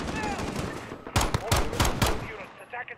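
Bursts of automatic gunfire ring out from a building during a Call of Duty: Modern Warfare (2019) prologue mission, several rapid volleys in the second half after a quieter opening, loud and close.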